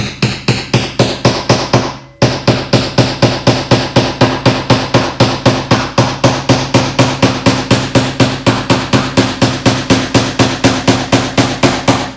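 Steady, rapid hammer blows drive a red-hot graver tang into its handle held in a vise, loud close metallic strikes repeating evenly with one brief pause near the start.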